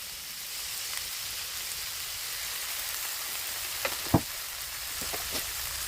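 Pork stir-frying in a pan with oyster sauce for a holy basil stir-fry, giving a steady close sizzling hiss throughout with a few brief clinks near the end and no talk.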